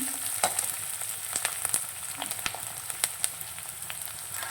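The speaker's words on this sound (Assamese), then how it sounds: "পিঁয়াজখিনি মই অকণমান তেল ওলোৱালৈকে ভাজিম" Onions and garlic sizzle and crackle in hot oil, with irregular sharp pops and occasional stirring clicks over a steady frying hiss, close up.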